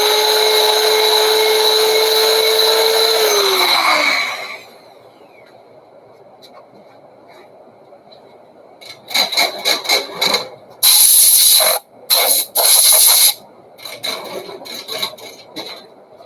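Wood lathe turning a bowl at up to about 700 RPM: a steady whirring hum that winds down, a quiet pause, then loud bursts of rasping, scraping cuts as the tool bites the spinning wood.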